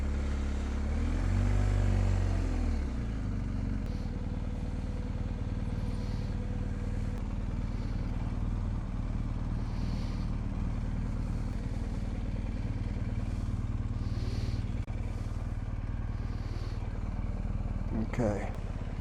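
BMW R nineT motorcycles ride past on a deserted road, their engines a steady low rumble close by, with a brief louder surge near the start and a sharp clatter near the end.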